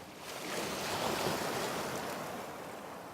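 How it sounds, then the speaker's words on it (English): Ocean water splashes and beats against a camera's flat port, a continuous washing surge that swells and stays steady for a few seconds with no talk. "See how the water's beating off that like this?"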